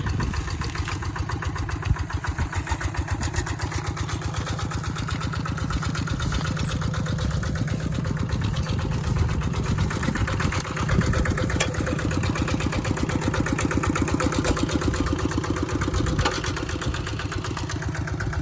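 An old Kubota ET95 small diesel engine, nearly thirty years old and set up to drive a water pump, idles steadily and loudly up close, its rapid thumping pulse unchanging throughout with no voices.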